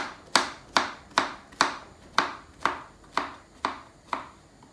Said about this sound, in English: then I start chopping them like this, so to have small little pieces like these ones